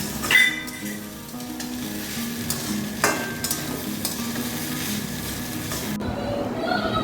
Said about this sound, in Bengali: দিয়ে আমি এটাকে ভালো করে ভাজবো।